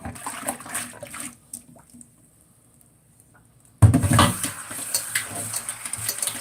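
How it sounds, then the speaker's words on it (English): Food is washed by hand in water in an old pot, with close sloshing, splashing and pattering that stops for about two seconds, then resumes louder and busier. "So you use a bowl to wash it, or use a pot, your old pot."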